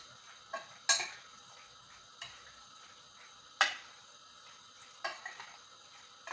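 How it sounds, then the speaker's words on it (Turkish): A spoon stirs a spiced chicken mixture in a bowl with sharp, sparse clinks and scrapes at irregular intervals, close and quiet with no talking. "Şöyle hemen bunları karıştırıyoruz."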